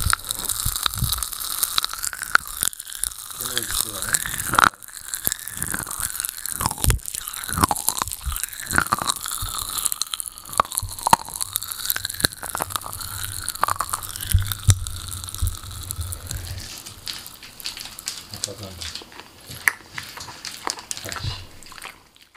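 Popping candy crackling close to the ear, a dense, continuous fizz of tiny snaps and crunchy pops with wet mouth sounds, steady throughout with brief louder bursts and no talking.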